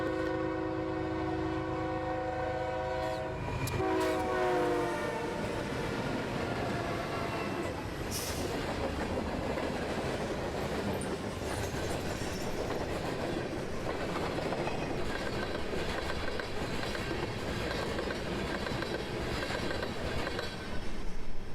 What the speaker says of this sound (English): we can see CSX train L303 charging eastbound past the old switch house.